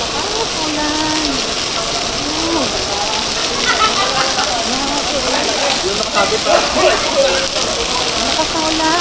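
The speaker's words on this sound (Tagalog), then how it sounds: "Lakas na ulan." Heavy rain pours steadily onto surfaces outdoors before a family wedding, a loud, unbroken roar of dense drops with voices talking faintly underneath.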